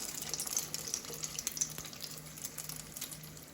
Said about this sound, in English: you're gonna roll it in the egg wash and you're gonna place this in the oil